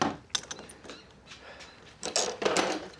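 A 1/4 inch ratchet spins out the cooling fan bolts on a 1996-2004 Nissan Pathfinder, giving faint, quick metallic clicking in short bursts, with a denser run of clicks near the end.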